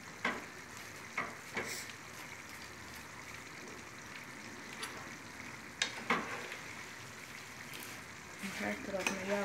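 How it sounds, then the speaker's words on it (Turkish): Egg noodles toasting in hot oil in a pan, a continuous close sizzle with intermittent scraping and stirring clatter as they are tossed around. "erişteleri döküp pirinç gibi Türk pirinci gibi kavuracağım"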